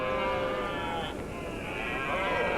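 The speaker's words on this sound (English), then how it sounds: "This eerie sound is the call of the red deer." Red deer stag calling during the rut on islands in western Scotland: a sustained, wavering, harmonic moan that holds steady and fairly loud across the whole stretch.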